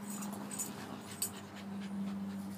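Dog panting softly in a yard, quick faint rhythmic breaths against a low steady hum, close but quiet, with no talking.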